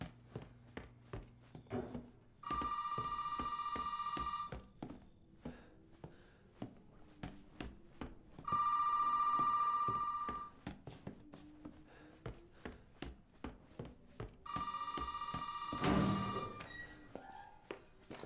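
A telephone in the horror video game Resident Evil 7 rings three times in long bursts, each about two seconds with long gaps between, amid faint footsteps and thumps of someone moving through a house.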